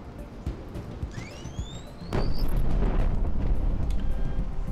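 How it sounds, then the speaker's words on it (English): A loud booming explosion in the flight combat game Project Wingman bursts out after whistling missile tones and keeps rumbling heavily to the end. "Secondary explosion."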